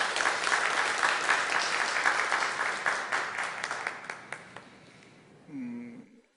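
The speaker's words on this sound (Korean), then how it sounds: "하나님께 영광의 박수 올려드리겠습니다." Church congregation applauding during a Sunday service, a dense steady clapping that thins out and fades over several seconds, ending with a short low tone near the close.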